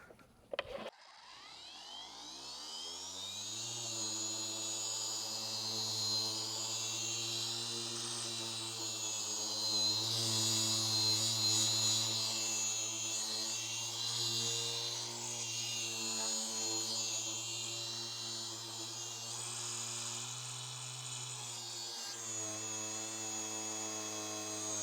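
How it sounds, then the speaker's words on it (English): Electric polisher buffing a car headlight after wet sanding, spinning up at the start into a steady whirring hum that holds for over twenty seconds, close and fairly loud, with slight shifts in pitch as it presses. "because I have a polisher, I am not going to do that by hand"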